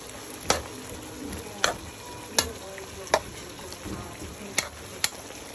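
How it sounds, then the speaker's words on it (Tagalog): Pork igado simmers in a pan with a soft, steady bubbling sizzle. A spoon scrapes and clicks against the pan about half a dozen times at regular intervals, close and clear, with no talk. "pakuluin lang natin 1 beses, guys."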